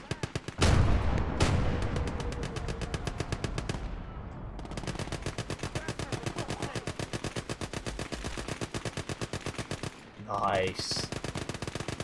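Machine gun cover fire in the Gates of Hell war game, long rapid bursts of loud, evenly spaced shots with a brief pause near the end; a voice speaks briefly.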